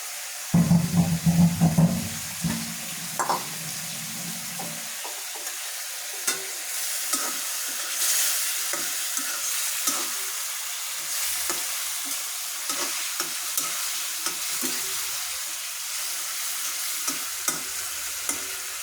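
Washed, cut fish pieces tipped into spiced masala in a pan. After an initial clatter, a steady broad sizzle of frying continues with intermittent stirring scrapes, close and moderately loud, with no talking.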